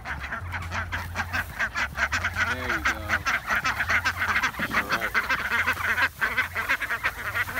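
Ducks on a ranch quack and honk in rapid, repeated bursts close by as they are herded along, with a low steady hum underneath.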